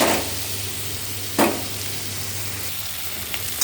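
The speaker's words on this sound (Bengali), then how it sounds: "আমার পেঁয়াজ আর ক্যাপসিকামটা ভাজা হয়ে গেছে" Onion and capsicum frying in a pan for a small fish (puti) dish: a steady close sizzle with a low hum underneath and a couple of brief stirring clatters, no voices.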